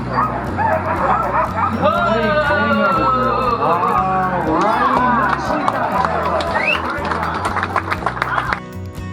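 A pack of sled dogs in Alaska barks and yips excitedly, overlapping continuously with whines mixed in, loud and close throughout.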